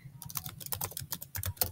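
Rapid, uneven clatter of keys on a computer keyboard while a password is entered, close and fairly quiet, with no talking.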